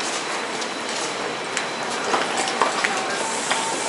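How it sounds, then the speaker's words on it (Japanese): A commuter train on the line from Newark airport toward Manhattan rolls in, a steady broadband rumble and rattle with light clicks and faint wheel squeals, loud and continuous. "やっとね、電車来ました。"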